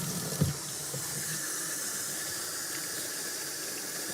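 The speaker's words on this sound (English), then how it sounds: "I'm going to use a paper towel to turn the water on." A water tap runs into a basin, giving a steady broadband hiss and splash from start to finish after a brief knock at the outset, with no talking.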